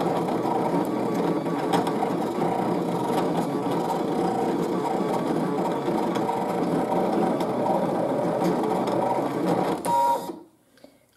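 A Brother ScanNCut CM900 cutting machine runs continuously, a steady mechanical whirring and buzzing with faint ticks for about ten seconds, close and alone, before stopping abruptly.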